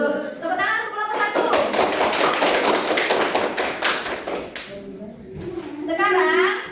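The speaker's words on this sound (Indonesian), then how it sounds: "Tepuk tangan untuk kelompok" Students in a classroom applaud a group after its practice-teaching presentation, a burst of dense clapping with children's voices chattering over and after it.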